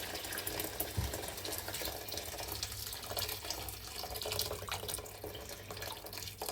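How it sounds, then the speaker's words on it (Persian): Boiling water is poured into a pot of rice being cooked for chicken and rice, a steady splashing, gushing flow with a sizzling hiss, fairly quiet and continuous without speech. "سپس الان آب اضافه میکنیم، آب جوش."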